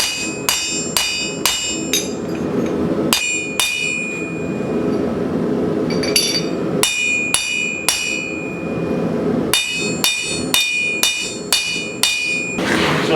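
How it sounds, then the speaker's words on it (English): A blacksmith hammers hot steel flat stock to thin it, producing loud, ringing metallic strikes in irregular bursts of quick blows close up, with no voices. "So I'm going to start thinning it out"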